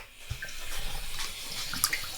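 Hot tap water runs into a kettle, a close splashing gurgle that swells and shifts in pitch as it fills over two seconds, with no one speaking.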